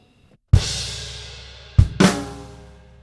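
A rock drum kit plays a short shuffled bar: a crash with bass drum rings out and decays, then later a quick snare flam with another crash, close and clear with no talking.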